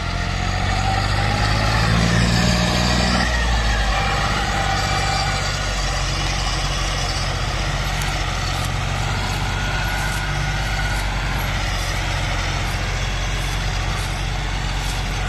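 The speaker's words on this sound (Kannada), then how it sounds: "ಒಂದೇ ಸತಿ ಎರಡು ಟ್ರ್ಯಾಕ್ಟರ್ ಜಗ್ಗೋಗತ್ತವ" Two tractors hauling sugarcane run together with a loud, steady low diesel rumble close by, a constant engine drone that barely changes over fifteen seconds.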